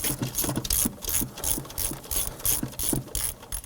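A hand ratchet clicks in quick repeated bursts while turning the ignition coil bolt on a 2005-2009 Subaru Legacy 2.5L H4 engine, loud and close with short pauses between strokes.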